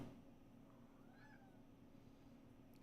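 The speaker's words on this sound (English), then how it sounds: "My cat is being crazy." A cat gives a faint, brief meow in a quiet room, a soft single call in the middle, ending in a sharp loud knock or bump.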